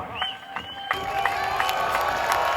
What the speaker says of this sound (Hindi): हाथ उठाकर तालियों की गूंज में इस्तकबाल कीजिएगा